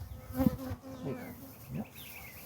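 Honeybees buzz close by at an open Layens hive in a steady drone, with individual bees passing near and away, faint and outdoors.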